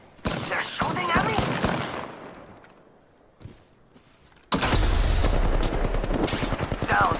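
Rapid automatic gunfire in the battle royale video game Apex Legends crackles in dense, loud bursts, fading, then erupting again into sustained close fire.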